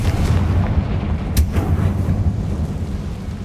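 A Confringo blasting spell explodes in the video game Hogwarts Legacy, a single loud booming blast with a sharp crack over a dense rumbling background.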